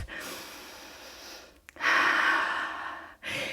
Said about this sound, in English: Just taking a breath.